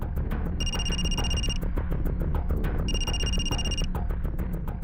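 A telephone rings twice in long electronic trills, each a second or so, over a steady background of low music.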